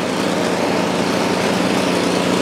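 A Craftsman Quiet Technology snow blower runs steadily close by, its small engine giving a continuous, even drone with a busy buzzing texture and no pauses, heard alone with no voices.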